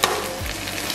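Sausage and rice being stir-fried in a hot pan, a steady close sizzle with a brief scrape of stirring near the start.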